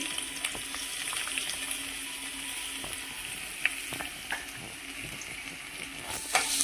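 Garlic and ginger fry in a pan for a Manchurian gravy, a soft, steady sizzle heard up close, with scattered light clinks of a utensil and a brief knock near the end.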